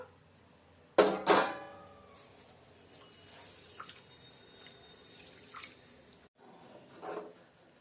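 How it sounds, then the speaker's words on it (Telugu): Washed rice draining in a kitchen strainer: one sharp wet splash, then soft squishy shifting and scattered faint drips in a quiet room. "శుభ్రంగా కడుక్కున్న బియ్యాన్ని మనం ఇలా స్ట్రైనర్లో వడకట్టుకుని వాటర్ అంతా దిగిపోయాక"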